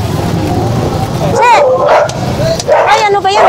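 Dogs bark and yelp while scrapping at a busy street market, with loud close barking bursts over crowd noise and people talking.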